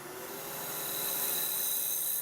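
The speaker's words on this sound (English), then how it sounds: "That's a brass brush. That will take off any loose fibres." A brass brush spinning on a Merlin 2 rotary tool rasps steadily across a carved surface to clear loose fibres, a close, continuous scratchy hiss that swells slightly before cutting off.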